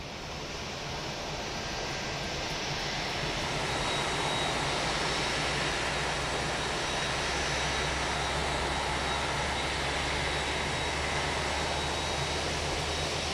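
Jet engines spool up on an FSLabs A321 CEO airliner with IAE engines in Microsoft Flight Simulator 2020, a broad steady roar and whine that builds over the first few seconds and then holds loud and constant.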